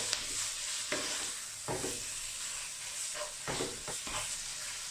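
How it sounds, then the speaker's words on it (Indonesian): Ground beef bulgogi stir-fried in a pan, with a steady sizzling hiss and several scraping stirs of the spatula at intervals, close and moderately loud, no voices. "Ini kita tumis dulu."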